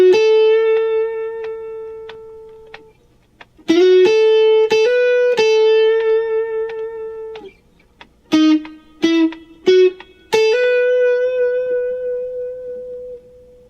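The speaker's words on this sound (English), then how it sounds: "The riff for the B section will sound something like this." A single-note electric guitar riff for the B section of a song, with sliding notes that sustain, then a cluster of short plucked notes and a final held tone, clean, close and unaccompanied.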